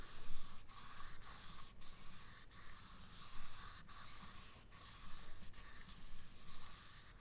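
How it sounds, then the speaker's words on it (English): A makeup wipe rubs across the surface of an eyeshadow palette in close, quiet bursts of soft scratchy friction, each stroke separated by brief pauses, with no voices. "you're just gonna rub it on the palette itself"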